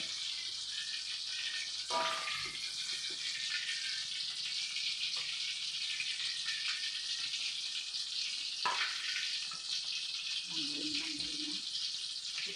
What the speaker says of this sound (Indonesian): Mau goreng sambalnya dulu.